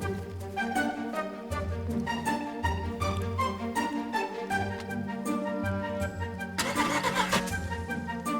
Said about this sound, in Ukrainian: Саня, ну штовхни, зараз заведеться